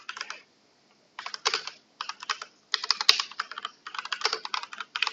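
Fingers typing a description on a computer keyboard, quick bursts of close, crisp key clicks separated by short pauses, with no voices.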